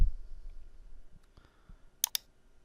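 Two quick, sharp mouse clicks sound close and faint against a quiet background while ESET Smart Security is being set up on a computer.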